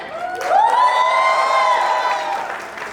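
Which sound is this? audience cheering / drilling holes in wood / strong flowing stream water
audience cheering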